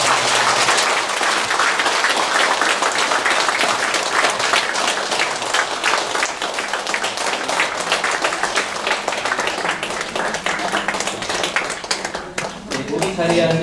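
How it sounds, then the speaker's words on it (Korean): An audience at a Buddhist year-end dharma service claps for a senior monk, sustained dense applause from a crowd that continues evenly throughout and thins out near the end. "큰 스님께 다시금 감사의 큰 박수 부탁드립니다."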